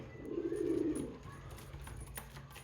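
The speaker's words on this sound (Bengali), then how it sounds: "তিনটা কবুতরই বেস্ট কবুতর" A pigeon gives a soft, low coo lasting under a second among a small group of young domestic pigeons, followed by quiet rustling.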